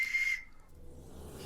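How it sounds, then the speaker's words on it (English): A whistle made from a bullet case sounds a short, thin, high tone that quickly fades into quiet background. "you keep moving it gently in and out until you either get a whistle"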